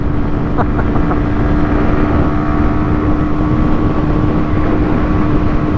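Small German MZ two-stroke motorcycle engine of about 10 horsepower running steadily, a loud continuous buzzing drone close by, with no talking.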